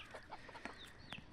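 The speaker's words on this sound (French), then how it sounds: "On commence à essayer de faire cocorico." Young roosters try to crow, giving faint, squeaky, broken calls and brief clucks in quick, uneven bursts from a short distance.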